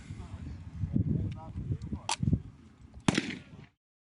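An NLAW grenade launcher fired at a military training range, with sharp blasts standing out over background voices and wind noise.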